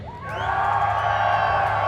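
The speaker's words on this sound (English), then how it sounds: "in the crowd, who is cheering for Optic? Let me hear you scream." A large esports arena crowd at a DreamHack Denver 2017 match between Optic Gaming and Team Liquid roars and screams in a sustained rising cheer, loud and dense, lasting the whole moment.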